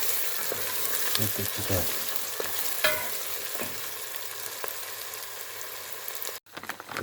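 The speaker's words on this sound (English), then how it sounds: "I'm going to fry our curry" Curry frying in a pan for a tuna curry with onion and a little flour, a steady close sizzle with scraping stirs, briefly interrupted near the end as a few words are spoken.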